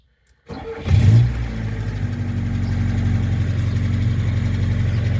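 A VAZ-2101 car engine starts with a brief crank, catches and settles into a steady, loud idle with a fine ticking rattle from worn valves, close and continuous.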